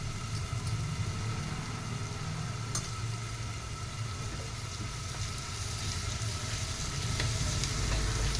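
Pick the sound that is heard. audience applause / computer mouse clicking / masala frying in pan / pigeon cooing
masala frying in pan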